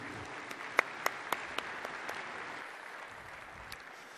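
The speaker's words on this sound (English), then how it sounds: "please give a warm round of applause for your featured clinician, Romeo Josak." Applause greets a featured clinician at a coaching clinic held outdoors on a field: a thin scattering of claps, a few sharp individual hits standing out early, then fading to a sparse, quieter patter.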